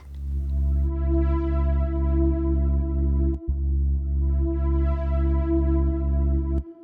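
Sustained, dark synth pad chords swelling slowly with a reverberant wash, two long notes separated by a brief gap, no voices.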